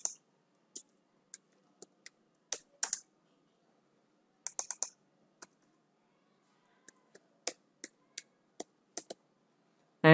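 Sparse keystrokes on a computer keyboard, faint and close, tapped singly and in short bursts with long silent gaps, with no talk.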